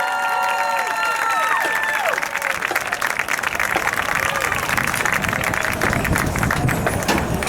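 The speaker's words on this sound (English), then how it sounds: "please give another round of applause to our host and final band tonight, the Celebration High School Sound of the Storm" An audience at a high school marching band evening performance breaks into sustained applause and cheering, a dense wash of clapping that fills the whole stretch while a voice briefly carries over it.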